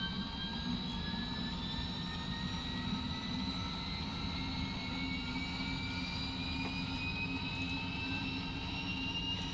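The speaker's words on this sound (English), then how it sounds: "There goes our turbine start." A turbine engine in the Train Simulator game spools up, its steady whine climbing in pitch over a constant roar, heard alone without any talk.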